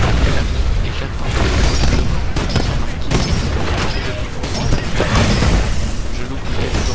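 Rocket blasts and booms from the shooter video game Titanfall fill the clip continuously, loud dense bursts layered with mechanical game effects, with no clear gaps between impacts.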